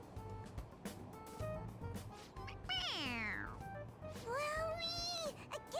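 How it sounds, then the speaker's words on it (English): A toy cat in Persona 5 Royal meows when its head is pressed: two clear, close, rising-and-falling meows a second or so apart, over a low game background. "It meows when you press on its head."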